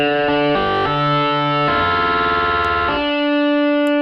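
An electric guitar plays sustained chords through an Arturia Dist Coldfire dual distortion pedal, buzzing and saturated, changing chords a few times before ringing out on a held note.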